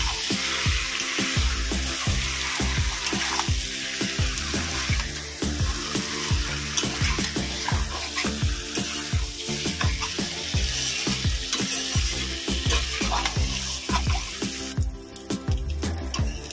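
Chicken pieces are sautéed in a pan under a dense, continuous sizzle. A spoon stirs them with frequent rhythmic scraping strokes and knocks against the pan, and there is no talk.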